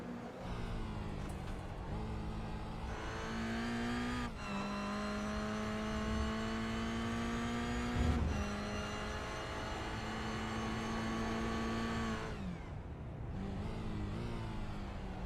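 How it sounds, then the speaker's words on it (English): A Toyota GR86 race car engine in the iRacing simulation, at Circuit Gilles Villeneuve, revs and drones with rising and falling pitch through repeated upshifts and lifts, heard as a fairly faint, steady in-car whine without speech. "You'll hear the engine. It's barely revving at some points."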